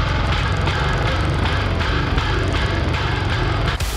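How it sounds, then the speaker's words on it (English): Heavy distorted bass guitar tone in a dense metal mix, thick and loud, with steady low-end chugging and crashing cymbal wash, continuous and close until a brief cut near the end. "And my bass sounds like this."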